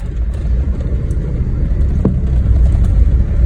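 Low engine and road rumble from inside a moving Suzuki Cultus passing through narrow streets, steady and close with a single brief knock midway, no speech.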